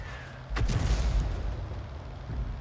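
A 105 leFH18B2 self-propelled artillery gun fires in a Second World War tank video game, a single loud boom followed by a rumbling tail over steady engine drone.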